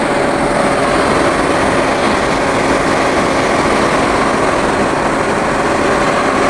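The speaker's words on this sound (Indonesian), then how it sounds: "Oke, sekarang dua extra fan sudah nyala." Two extra electric cooling fans run at once on a Wuling Almaz CVT Turbo car, one for the engine oil cooler near the left headlamp, giving a loud, steady broadband whir with a faint tonal hum and no pauses.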